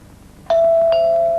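A doorbell in a 1960s TV advert chimes: a clear sustained ding followed by a second, softer tone over it, close and loud with no talking.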